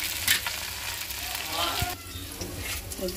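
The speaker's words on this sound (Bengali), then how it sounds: "আমি সবজির জন্য পেঁয়াজ কুচি দিয়ে দিচ্ছি। পেঁয়াজ গরম হয়ে গেছে।" Chopped onions sizzle in hot oil in a home kitchen pan, a steady close crackle with brief stirring scrapes and small pops throughout.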